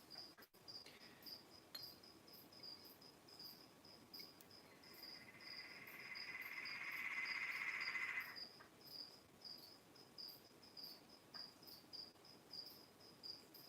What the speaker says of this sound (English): I'm just going to put a couple of little crickets in there for him.